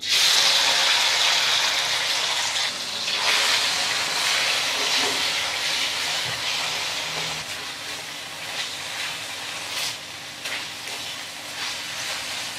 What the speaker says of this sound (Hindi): ऑयल गरम हो जाने के बाद हम इसमें चिकन डाल देंगे जो हम मैरिनेट किए हैं